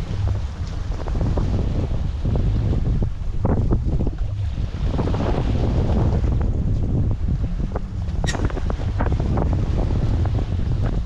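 Strong wind buffets the microphone aboard a sailboat crossing the Gulf of Lion, a loud continuous roar with gusty rumbling and the wash of waves beneath.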